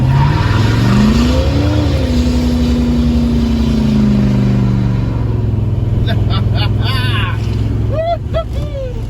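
A 1977 Chevy C20 truck doing a burnout, its engine revving hard with rising and falling pitch sweeps and a loud sustained roar, tire squeal-like tones near the end.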